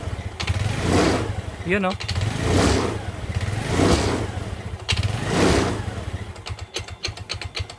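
A motorcycle engine idles and revs in repeated surges after its carburetor is tuned 2.5 turns to correct a too-low RPM and delay, running close and loud with a person talking over it.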